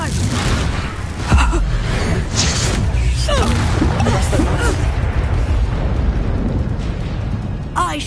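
A Confringo fire spell bursts in Hogwarts Legacy, a loud blast followed by crackling, rumbling combat noise with spoken voices over it.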